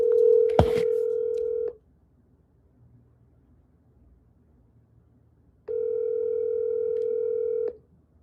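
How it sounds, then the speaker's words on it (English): A phone line gives two long ringback tones separated by a pause, steady, clear and close, with a brief dialing blip at the start and no speech. "I can just call Harry"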